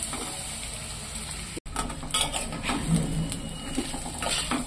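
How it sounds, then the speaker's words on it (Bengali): Dry rice going into hot oil with onions in a pan, producing a low, steady sizzle with light stirring scrapes after a brief cut in the sound, heard up close and fairly quiet. "এই শুকনো চালগুলো আমি এই তেলের মধ্যে তুলে দিচ্ছি।"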